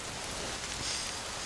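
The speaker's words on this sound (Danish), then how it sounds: "Ja, lidt regnvejr skal der jo også til." Light rain falls during an evening outdoors on a hiking trip around Ritsem, a soft, even wash of patter that stays steady and fairly quiet throughout, with no talking.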